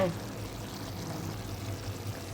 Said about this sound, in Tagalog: Lagyan natin ng kunting tubig tapos takpan ulit para maluto yung manok.